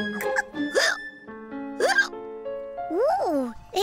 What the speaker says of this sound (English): I've got hiccups.